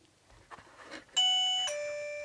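A LETWESAF camping perimeter alarm receiver sounds a clear two-tone ding-dong chime once, loud and close, ringing out and slowly fading with nothing else heard.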